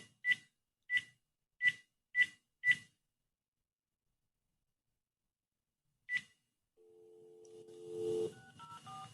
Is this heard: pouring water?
no